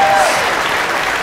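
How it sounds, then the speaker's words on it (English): Brief burst of loud audience applause at a Boston comedy show, a continuous wash of clapping with a faint whistle at the start. "Round of applause for Brian, giving drinks out."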